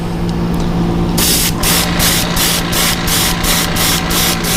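Airbrush spray gun laying a light prime coat of white paint, a hissing spray starting after a moment of quiet and then pulsing in a quick series of short regular bursts, close and loud.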